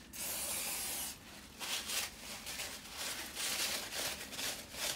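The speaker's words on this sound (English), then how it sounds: "get some brake cleaner on" Brake cleaner sprays onto the brake disc of a KTM Duke motorcycle in a close, loud, steady hiss. The spray breaks off briefly, then continues in several short bursts.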